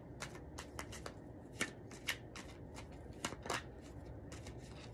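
Tarot cards shuffled and drawn close by, a quick flurry of crisp riffling flicks and soft snaps that pause and resume, fairly quiet and alone.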